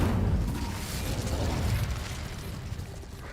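Incendio fire spell cast in the video game Hogwarts Legacy, a loud whooshing burst at the start that slowly fades into a crackling, rumbling tail.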